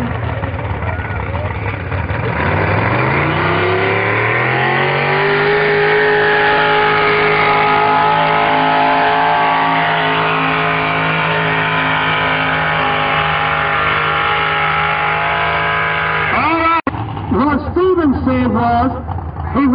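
A Chevrolet pulling truck comes off the line at the 2011 Danville/Pittsylvania County National Truck and Tractor Pull. The loud engine climbs steeply in pitch, then holds a sustained, close roar before cutting out near the end, where other sounds break in.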